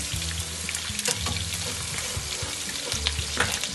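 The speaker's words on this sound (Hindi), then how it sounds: "प्याज हमारा ब्राउन हो गया, इसमें हम लहसुन डालेंगे" Garlic and green chillies sizzle and fry in oil with browned onions, a steady close crackle with occasional stirring scrapes throughout, no talking.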